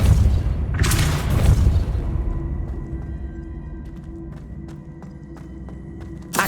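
A Depulso spell blast in Hogwarts Legacy lands as a loud, booming burst near the start, followed by a lingering rumble and a few faint taps as it dies away.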